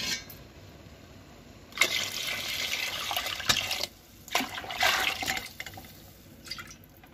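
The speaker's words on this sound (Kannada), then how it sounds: "ಇವಾಗ ನಾವು ಕಟ್ಟನ್ನು ಹಾಕಬೇಕು" Horse gram stock is poured into a pot of boiling saaru, a steady watery pour and splash that comes in two main surges with dripping between them, close and moderately loud.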